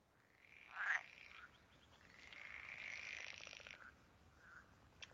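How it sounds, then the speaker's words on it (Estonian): Pool frog calling in a quiet outdoor setting: a faint rasping, purring croak followed by a longer rattling trill, distant and low in level with no voices. "Et siin ka siis näited, kuidas keegi laulab, et tiigikonna häälitsuse võiks meelde jätta"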